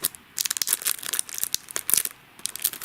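The plastic wrapper on a Pokemon card pack crinkles and rips in quick, close bursts as fingers work at its pull strip, with short pauses between the tears.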